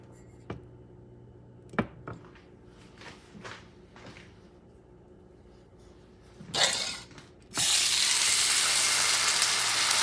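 Extra virgin olive oil hitting a preheated pan: after a few scattered clinks and handling knocks, a loud, bright sizzle erupts and holds steady and close to the end.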